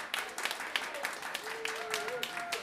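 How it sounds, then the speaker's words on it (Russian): Concert audience applauding after a set, a soft, dense patter of many hands heard from a distance at low level, with a few faint voices rising over it. "Большое спасибо за горячие аплодисменты"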